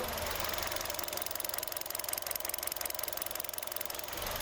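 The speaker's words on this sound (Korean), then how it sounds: "엔진 소리는 그냥 진짜 벨트 돌아가는 소리 이외에 다른 잡소리 전혀 없다라고 말씀드릴 수 있을 것 같고요" A Kia Pride (all-new model, about 70,000 km) engine idles steadily up close, a smooth continuous hum with a faint rhythmic whirr of a turning belt, no other noises, no voices.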